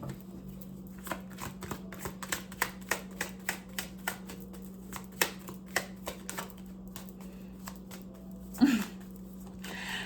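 Quiet, irregular crisp snaps and riffles of cards being shuffled, close by, over a steady low electrical hum.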